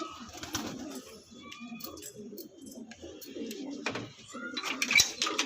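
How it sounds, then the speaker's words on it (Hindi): Purchased racing pigeons in a netted loft giving soft low coos, faint and intermittent, with light clatter and quiet background talk. "ये सब कबूतर ख़रीदे हुए हैं भाई"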